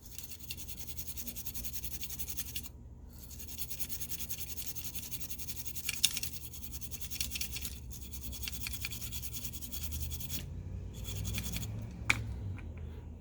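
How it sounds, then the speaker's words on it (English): A toothbrush dipped in alcohol scrubs a Samsung J7 Pro SM-J737 phone circuit board with steady, close, fine bristle scratching, broken by a few short pauses and taps. No one talks. "I will just clean this area here with the toothbrush and alcohol."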